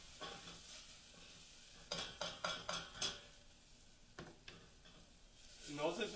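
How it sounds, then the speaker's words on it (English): Spoon scraping and stirring oregano and spices as they toast in a hot pan, a run of five quick, close scrapes with softer stirs before and after and faint sizzling toward the end. "We'll go ahead and stir those around a little bit. Let those toast off and let the oils come out of there."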